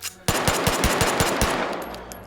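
Rapid gunfire from a jammed-sounding pistol slide in the H3VR virtual reality shooting game, about eight sharp evenly spaced shots in quick succession, loud and close with no talking.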